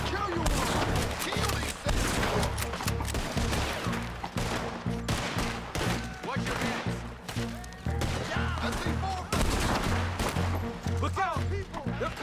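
Sustained gunfire rattles through a foggy valley shootout in Red Dead Redemption 2, dense volleys of rifle and pistol shots cracking in rapid, uneven bursts throughout, loud and close, with voices shouting underneath.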